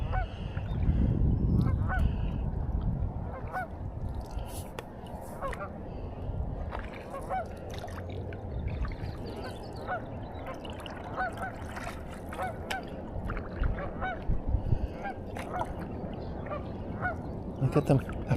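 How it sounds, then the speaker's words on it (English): Goose honks from a group of grown geese on a lakeside beach, repeated calls scattered throughout over a steady outdoor background with wind rumble and faint water. "Oh wow, those geese have really grown up."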